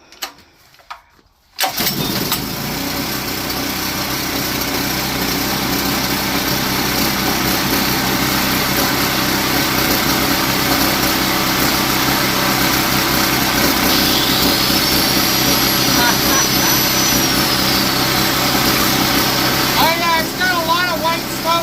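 A salvaged free generator engine runs steadily at high revs, starting abruptly after a short quiet opening and holding a loud, continuous drone beside a grinder, with a rising whine near the end.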